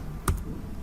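A single soft keypress on a computer keyboard pressing Ctrl R in accounting software, one short faint click in a quiet room.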